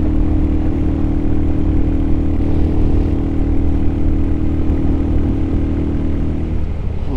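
A Royal Enfield Hunter 350 fitted with a 16-tooth sprocket rides steadily in fourth gear, its engine hum and wind rumble loud and constant with no talking.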